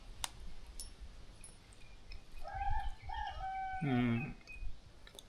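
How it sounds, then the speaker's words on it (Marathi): A rooster crows faintly in the distance in a quiet village, a short broken call followed by a louder final note, over a soft outdoor background. "कोंबडा पण आरवतो आहे"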